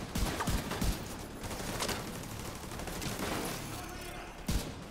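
Gunshots in Tom Clancy's The Division 2, several quick shots clustered at the start and a single loud crack near the end, over continuous game ambience.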